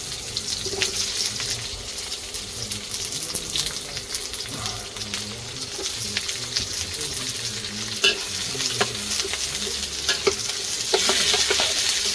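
Onions fry in oil on a flat top griddle, giving a steady, loud sizzle with scraping and stirring clatter throughout and a brief louder hiss near the end.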